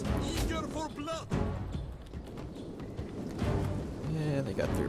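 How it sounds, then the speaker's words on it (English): Celtic light horse cavalry galloping in Total War Rome 2, a steady clatter of hooves beneath battlefield noise, with a voice talking over it. "Yeah, they got their Celtic light horse coming around."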